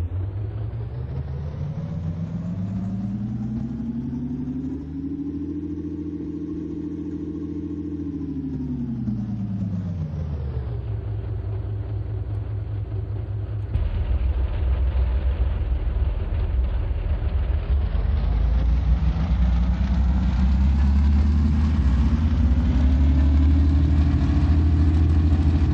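A tank engine from the game Aces High 3, pitch-shifted so its droning rumble sweeps up, sinks low and climbs again, then steadies into a heavy, continuous growl, loud and close with no talking.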